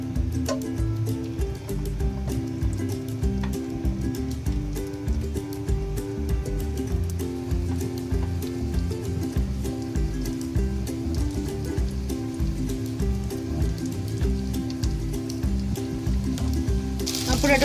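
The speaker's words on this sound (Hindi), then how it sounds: "अब रोल को एग में डिप करके शैलो फ्राई कर लें।" Egg-dipped potato rolls shallow fry in a pan of oil, giving a steady, even sizzle and crackle that runs continuously from start to finish without any talk.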